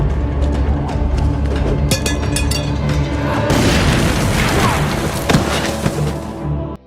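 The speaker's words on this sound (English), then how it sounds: "The sound of the explosion was heard by Elsa" A loud, booming blast with a heavy rolling rumble that fills the whole stretch, with sharp cracks and debris-like clatter before it fades out.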